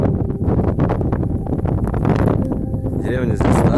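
Strong wind buffets the microphone in an open field near an old village, a loud continuous roar and rumble with gusts.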